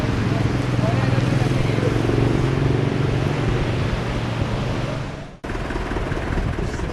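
A tractor engine pulling a cart between Buenaventura and Ladrilleros, a loud steady droning rumble with a sharp momentary drop before it resumes, voices talking over it.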